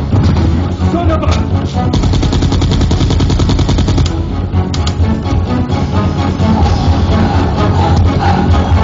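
Rapid bursts of automatic gunfire and single shots in the Resident Evil 2 video game, loud and nearly continuous throughout, with dense crackling reports and no speech.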